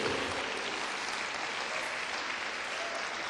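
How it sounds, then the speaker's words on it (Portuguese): A church congregation claps and applauds together in a dense, steady wash of hands that is fairly distant and even throughout, with no voices standing out. "Que coisa mais bonita do que quando o povo bate palmas?"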